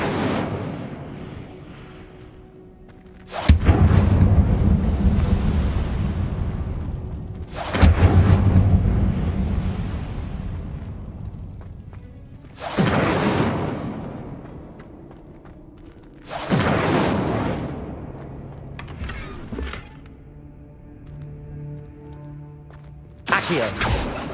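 Repeated fire spell casts in Hogwarts Legacy, each a sudden loud whooshing roar and blast that slowly dies away, about five of them spaced several seconds apart.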